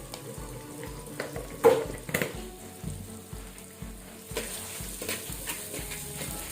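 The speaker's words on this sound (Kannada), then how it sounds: "ಸ್ವಲ್ಪ ಉಪ್ಪು ಸೇರಿಸುವ, ಬೇಗ ಈರುಳ್ಳಿ ಫ್ರೈ ಆಗ್ತದೆ." Onions frying with a pinch of salt in a pan, a low steady sizzle with occasional stirring scrapes and taps, close by and without talk.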